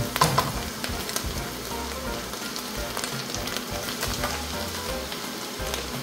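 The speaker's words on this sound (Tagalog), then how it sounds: "Haluin lang natin, gisa-gisa lang." Shrimp sauté in a hot pan with a steady, dense sizzle, broken now and then by the scrape of stirring, close and fairly loud, with no voices.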